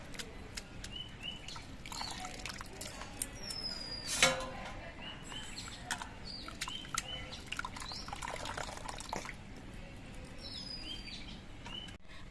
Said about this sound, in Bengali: আমি ধুয়ে নেব মান কচু